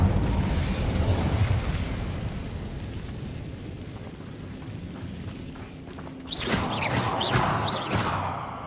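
A rumbling whoosh of fire swells and fades, then a sudden burst of crackling, popping flame erupts and keeps sputtering loudly, as the Incendio spell goes off in Hogwarts Legacy.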